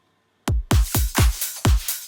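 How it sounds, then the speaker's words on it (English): Electronic drum pattern of punchy kicks with bright crisp hits layered above, five or six evenly spaced beats starting after a brief silence, loud and alone. "And in the second half, I've added a hi-hat loop."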